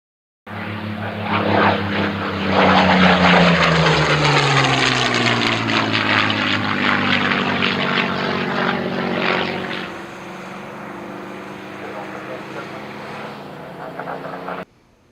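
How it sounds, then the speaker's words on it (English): A small air compressor runs steadily and loudly, a dense droning motor hum that starts abruptly, holds for several seconds, then drops to a quieter level before cutting off. "Shut up, compressor."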